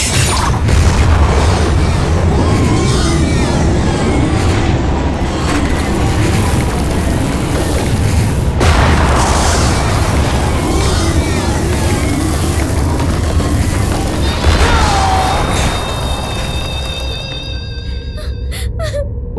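Bomb explosions in a Hindi-dubbed South Indian action film: loud, dense rumbling booms that go on for nearly twenty seconds, mixed with other action effects, before easing off near the end.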